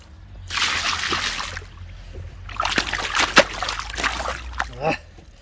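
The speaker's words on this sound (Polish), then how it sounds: "Zleję go trochę wodą." Water poured over a freshly caught carp of nearly 8 kg on a lakeside mat, splashing and sloshing in two close bursts with a spattering patter between them, under a voice.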